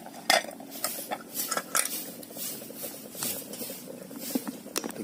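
Metal lid set onto a cooking pot of taro and vegetables over a wood fire outdoors, a few sharp clanks and scrapes followed by lighter rattles and tapping, close and fairly quiet.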